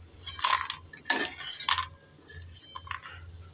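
Red-fried lentil dumplings are lifted from hot oil onto a plate, with several sharp metallic clinks of utensil against plate and pan coming in uneven bursts, close by.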